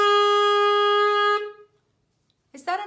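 A clarinet holds one clear sustained note for about a second and a half, then goes silent, and a second higher note begins briefly near the end.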